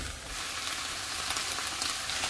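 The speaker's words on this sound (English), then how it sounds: "you'll start to get that browning and sizzling and just good color when you brown meat" Steady, loud sizzling of beef browning in a hot pan, a dense crackling hiss that runs without a break and with no talking.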